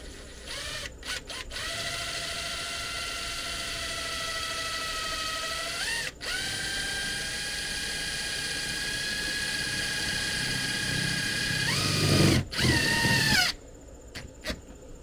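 A drill drives self-tapping screws into metal on a plexiglass window repair, a whining motor running in long steady stretches broken by brief stops and a final harder grinding burst.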